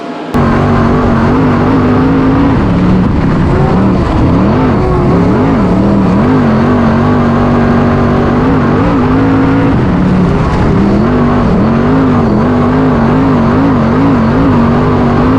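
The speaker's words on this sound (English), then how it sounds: "Slaney down low, Trimble upstairs, give the early lead to Trimble" Race cars roar around Placerville Speedway in extreme heat, engines droning loud and steady with pitch rising and falling as they accelerate and shift through the whole stretch.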